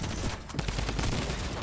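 Rapid drum gun fire in a video game, a dense, continuous burst of loud shots with no pause over a short stretch.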